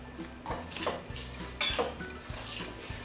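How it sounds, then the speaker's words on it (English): A spoon stirs tortilla mix in a silver metal bowl, giving repeated close clinks and scrapes in an irregular rhythm with no talking. "you're gonna stir everything that's inside the silver bowl"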